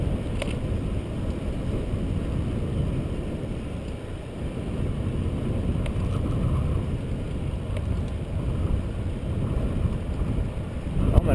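Steady wind roars across the microphone during an evening bike ride outdoors near a lake, a loud continuous low rumble with no break.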